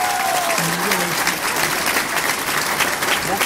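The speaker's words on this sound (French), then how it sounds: "je vous demande d'abord un premier applaudissement pour l'ensemble du corps enseignant." Loud, steady applause from a graduation audience honoring the teaching staff, dense clapping filling the room without pause, with a faint voice briefly audible at the start.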